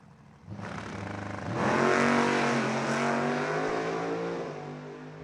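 A nostalgia drag race car at the ANRA Summer Nationals idles at the line, then launches with a loud, rising engine roar that holds strong and fades slightly as it pulls away down the track.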